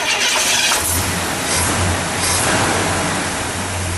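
A 1979 International Scout II engine with 57,900 miles and a slightly loud exhaust cranks and catches, then settles into a low, steady idle rumble, heard up close with no talking.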